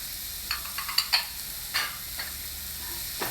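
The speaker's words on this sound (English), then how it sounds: "stir fry them all together" Onion, tomato, beans and carrot stir-fried together in a pan for upma: a soft steady sizzle with scattered scraping clicks of the spatula, fairly quiet and close, no voices.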